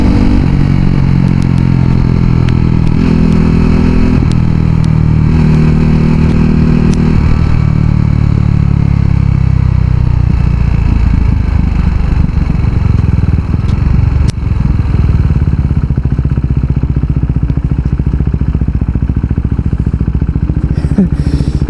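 A KTM RC 390 motorcycle rides along a cool morning road, its engine droning loud and steady with heavy wind rush and occasional clatter, no voices.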